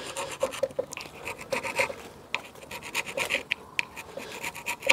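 Scraping and rasping on a Fiat Doblo van's brake caliper carrier as it is cleaned: short, repeated scratchy strokes in an uneven rhythm, close and fairly quiet, with no talk.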